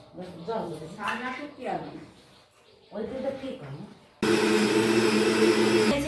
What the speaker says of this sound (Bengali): মিক্সারে এবার পেস্ট করে নিচ্ছে যে এটা করেছি